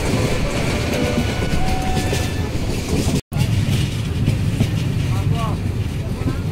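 The Subarna Express pulls into Ashuganj railway station with a continuous rumble and rhythmic wheel clatter on the rails, close and loud, broken by one brief cut, while people talk nearby.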